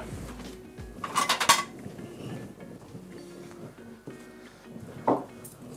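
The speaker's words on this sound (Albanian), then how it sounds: "A duhen dy pjata, thika dhe pyry, për shtrimin e saj." Plates, knives and forks being laid on a table for a family fish lunch: a burst of ceramic and metal clinks, then quieter handling, and a final clink near the end, close and fairly quiet.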